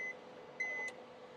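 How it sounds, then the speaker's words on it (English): A machine being loaded for a Procolored P13 DTF printer setup emits two short electronic beeps, a quick tone then a longer one, faint over a low hum in a quiet room. "beeping like crazy"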